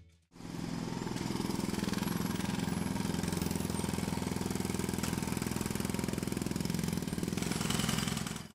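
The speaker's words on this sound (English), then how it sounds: "Let me try to get it with my jackhammer." A battery-powered toy jackhammer on a kinetic rock loader set buzzes and rattles in a steady, close, loud drone for several seconds before stopping abruptly, with no speech.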